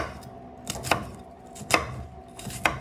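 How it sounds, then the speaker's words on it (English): A knife slices across an onion on a cutting board, four distinct close chops spaced unevenly with quiet pauses between, no talking. "Four slices going across the onion here, stopping before we reach the root."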